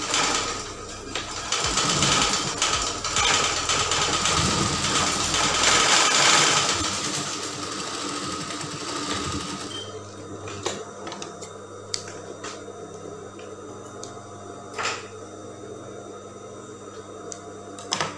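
A sewing machine stitches a woman's blouse lining in a loud, continuous burst for nearly ten seconds, then falls quiet apart from scattered clicks and handling taps.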